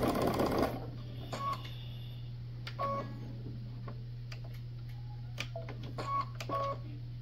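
A home sewing machine stitches bag pieces together, front or back panel to a side, in short separate bursts of rapid mechanical clatter spread over the clip, with a steady low hum running underneath.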